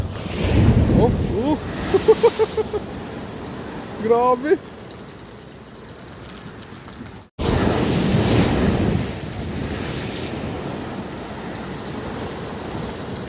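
Strong sea surf and fast-running water rush along the shore at Baler at early sunrise under heavy wind buffeting the microphone, while a person speaks excitedly in short bursts early on.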